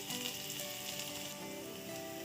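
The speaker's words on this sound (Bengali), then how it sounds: "তো এরপরে দেবো রসুন ফোড়ন" Garlic tempering crackles in hot oil for a Bengali dal dish, a steady close frying hiss that stays loud and even throughout without voices.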